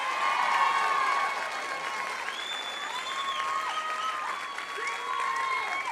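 A crowd at the Mrs. United States Pageant 2015 claps steadily, with whoops and raised voices rising over the dense, continuous applause, fairly loud and close the whole time.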